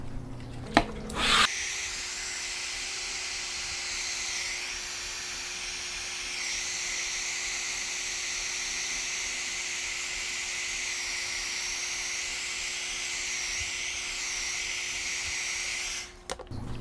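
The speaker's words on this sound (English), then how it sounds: "we're going to use a heat gun to activate the heat shrink" Heat gun blowing steadily on heat shrink tubing over a copper lug ring terminal, a loud continuous airy hiss with a high whine that runs unbroken for about fifteen seconds, then cuts off.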